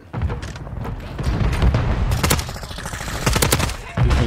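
Rapid gunfire in a Call of Duty: Modern Warfare 3 match, dense bursts of automatic shots and impacts that stay loud throughout, with a short pause near the end before firing resumes.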